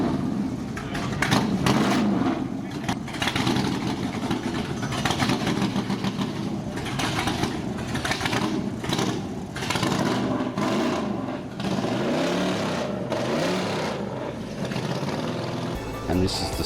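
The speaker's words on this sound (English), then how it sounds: "What a fantastic looking car the Moffat Mustang is. Plus it's got the sound to boot." Allan Moffat's Ford Mustang Trans Am race car at a muscle car event, its big engine rumbling and revving loudly and continuously, with a commentator talking over it.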